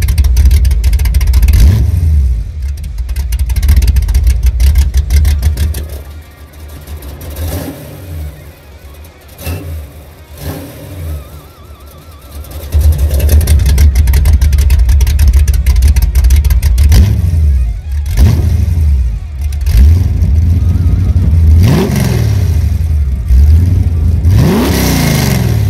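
Loud V8-style car exhaust roaring straight out of the headers through a 3-inch collector and open 3-inch electric cutout, with repeated hard revs and a lower idling lull in the middle, close and alone.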